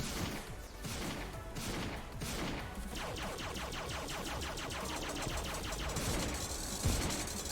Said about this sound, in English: I'm just gonna start shooting.